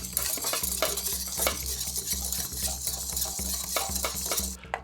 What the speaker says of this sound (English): and whisk until combined.